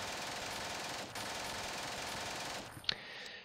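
Gunfire in the Steel Panthers wargame, a dense continuous rattle of rapid shots at a fairly faint level, with a brief break and a sharp crack near the end before it fades.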